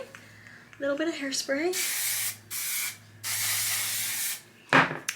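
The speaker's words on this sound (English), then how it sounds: "this is where I will take a little bit of hairspray" Hairspray sprayed onto a ponytail in a few hissing bursts, one long and steady, close to the microphone, after a brief bit of speech.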